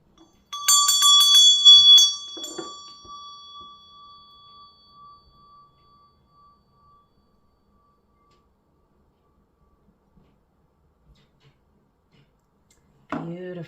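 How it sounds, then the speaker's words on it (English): A bell is struck once, ringing loudly and bright with a few quick clinks, then a long sustained tone fades slowly into silence before a voice begins speaking near the end. "I'm just going to ring the bell for those of you who are new to the channel"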